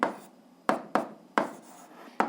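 A pen writing an algebra equation's answer on paper: several short, crisp scratchy strokes in irregular rhythm, close and fairly quiet, with no voices.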